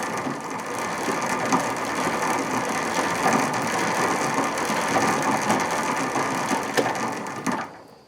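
A motor drives newly fitted gears on a homemade electric vehicle, producing a continuous, steady clattering whir with a ratcheting texture, loud and close, running for several seconds before cutting off abruptly.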